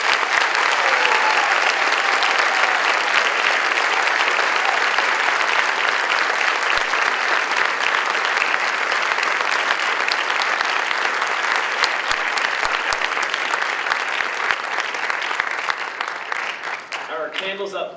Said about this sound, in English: Please join me in applauding their accomplishments.